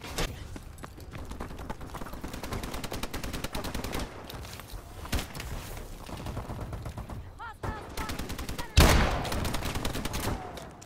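Rapid automatic gunfire and single shots crack repeatedly in a Call of Duty: Advanced Warfare team deathmatch, near and loud bursts with brief pauses, capped by a heavy blast near the end.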